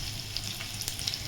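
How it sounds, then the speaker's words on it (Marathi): Garlic and cumin seeds sizzle in hot ghee, a brief steady hiss with small crackling pops, heard close and alone. "तूप गरम झालंय, त्यात टाकून घेते लसूण, जिरे"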